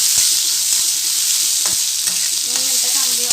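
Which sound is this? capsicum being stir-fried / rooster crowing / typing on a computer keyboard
capsicum being stir-fried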